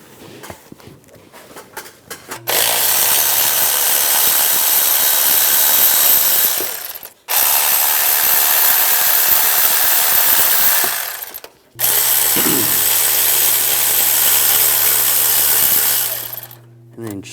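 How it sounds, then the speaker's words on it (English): A power tool with a 15mm socket removes the belt tensioner bolts on a 1999-2006 Chevrolet Silverado 1500, whirring loudly in three long, steady bursts separated by brief pauses, close up. "Using a 15mm socket, take these bolts out."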